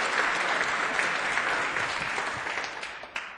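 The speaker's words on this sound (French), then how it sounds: "Bonne réponse, on peut l'applaudir, bravo." Audience applause at a youth quiz tournament final, a dense sustained clapping from a room full of people, steady for a few seconds then thinning out toward the end.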